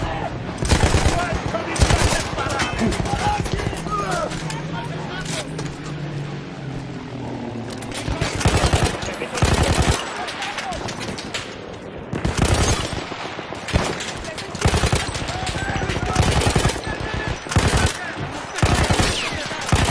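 Bursts of heavy machine-gun fire from a captured Austro-Hungarian MG in the Battlefield 1 video game, rapid clattering volleys repeating across the scene, loud and close amid battle noise with some voices.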